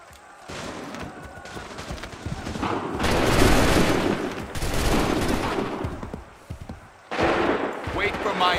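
Musket volleys in Assassin's Creed 3 crack out in loud, dense bursts of massed gunfire, with a commander shouting orders between the rolling volleys.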